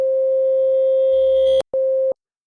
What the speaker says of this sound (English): a riser that has this rhythmical stuttering included